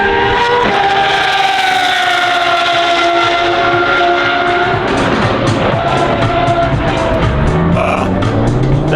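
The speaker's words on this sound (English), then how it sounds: "That is the sound of a 4-liter Judd V10 swapped A90 Supra." Judd 4-litre V10 engine in a swapped A90 Toyota Supra, a loud, high-pitched wail rising and falling through revs, sustained and close, with no talk.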